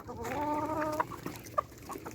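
Chickens, including eight-month-old young birds, cluck in a farmyard, a fairly close run of repeated clucks at the start followed by a few sharper calls and small knocks.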